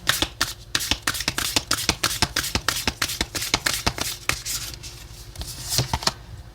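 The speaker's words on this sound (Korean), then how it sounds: "그러면 테마 카드를 2장 뽑아보도록 할게요." A deck of tarot cards is handled and drawn, giving a fast run of crisp, close flicks and snaps that keep an even rhythm with no voices.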